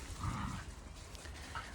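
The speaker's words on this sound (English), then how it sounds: "What's with the barking?" A dog barks somewhere in the background, muffled and mixed into a dense, noisy ambience for a short moment.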